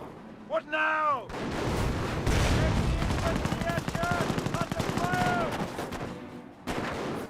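British artillery fire in Company of Heroes rumbles as a continuous barrage of booming impacts and rattling gunfire, with a whistling shell at the start and more whines midway, under a commentator's voice.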